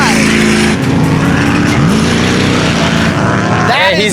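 Cars race around a junkyard challenge course, their engines roaring loud and close throughout, revving and shifting pitch as they pass, with a brief dip in the middle and a rising whine near the end.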